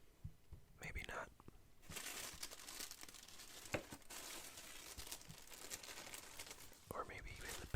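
Paper inside a sneaker box crinkles and rustles close up, in soft steady bursts with a brief pause near the start, under quiet whispery handling.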